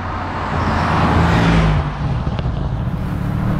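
An all-wheel-drive Bentley GTC accelerating hard out of a corner on a track, a loud close engine roar that swells and climbs in pitch before easing off as the car settles.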